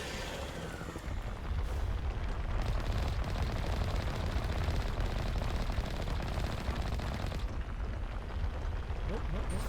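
The Mako vehicle's mounted gun in Mass Effect fires in a loud, dense, rapid stream of shots that keeps going for nearly ten seconds, with rumbling blasts layered underneath.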